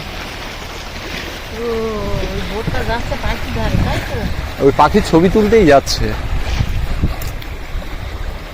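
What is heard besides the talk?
boat moving at high speed through water, making waves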